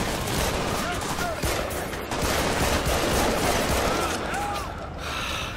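Gunfire from the video game Army of Two: The 40th Day, a continuous dense volley of shots and combat noise filling the whole stretch, loud and busy, with a few bursts of electronic chirps over it.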